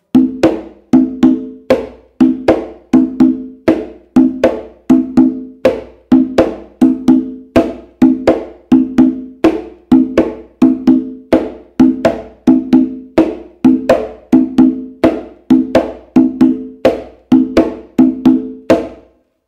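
A bomba hand drum beats a steady repeating rhythm of sharp slaps and ringing open tones, played close and alone with no talking.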